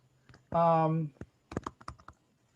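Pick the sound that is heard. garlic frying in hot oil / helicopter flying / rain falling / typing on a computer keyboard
typing on a computer keyboard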